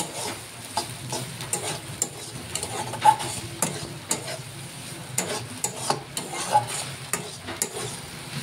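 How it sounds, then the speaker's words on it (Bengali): Potatoes frying for aloo bhaja, stirred and scraped around a pan, with steady sizzling broken by frequent sharp clinks and scrapes of the spatula that fall in an uneven rhythm, close and fairly loud. "আলু ভাজার কালারটাও খুব সুন্দর এসছে।"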